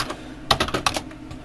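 A computer keyboard being typed on, a quick burst of six or seven close, crisp key clicks in an uneven rhythm, followed by quiet, with no speech.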